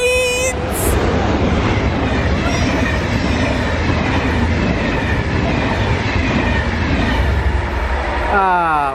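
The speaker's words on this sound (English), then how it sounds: "Look, a train!" A Railjet passenger train rushing past at speed, a loud, sustained roar with rhythmic wheel clatter and wind buffeting from close by, a voice calling out over the start and end.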